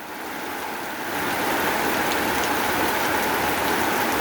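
Heavy out-of-season rain falls during the rice harvest, soaking grain left out to dry, a dense steady hiss of drops that swells louder after the first second and continues unbroken, with no voices.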